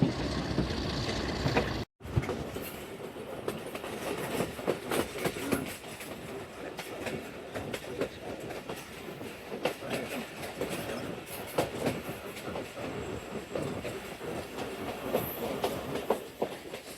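Chenab Express passenger train running along the rails, a steady loud rumble of wheels and carriage noise with rhythmic clatter throughout, briefly cutting out near the start, with no talking.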